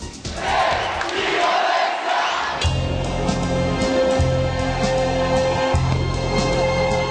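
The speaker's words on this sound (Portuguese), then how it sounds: "No terminal de ônibus, a arma encontrada foram as vaias, o grito de alerta que impediu a invasão." A crowd boos and shouts at a bus terminal during a street protest, a loud dense roar of many voices that thins into ongoing jeering with a low hum beneath.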